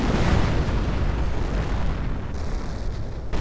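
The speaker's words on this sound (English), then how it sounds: "I think that's a creeping barrage." Creeping artillery barrage in a World War II strategy game: a dense, continuous rumble of overlapping distant explosions and booms, steady and loud throughout with no speech.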